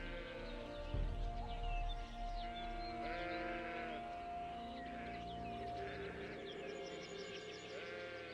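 Sheep bleat repeatedly at a farm in the video game Gothic II, moderately loud and layered over a steady ambient game soundtrack, with no talking.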